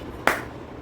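A single sharp hand clap, crisp and close, standing alone against quiet background during a political speech.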